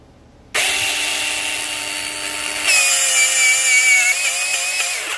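A NAVAC NEF6Li cordless flaring tool runs forward with a loud, steady motor whine that shifts to a higher, strained, wavering pitch partway through, like hitting a rev limiter, then cuts off near the end.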